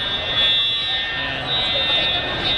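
A fire alarm buzzer in a building sounds continuously as a steady, piercing high tone, with voices talking underneath.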